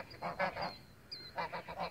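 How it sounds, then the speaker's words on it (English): Geese on a farm honk in a string of loud, nasal calls, a cluster of several honks, a pause, then another rapid burst of honking close by. "Oh, those geese."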